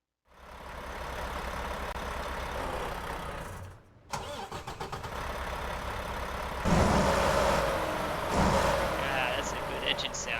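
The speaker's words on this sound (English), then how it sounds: "Ah, that's a good engine sound." A video-game truck engine cranks over and catches, then settles into a steady low idle rumble after a brief pause, with a slight rise in revs near the end; close and clear.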